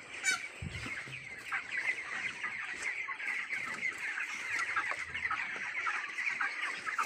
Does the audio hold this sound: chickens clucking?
yes